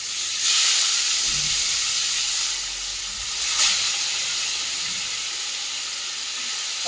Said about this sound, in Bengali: এগুলি ফ্রাই করে নিই।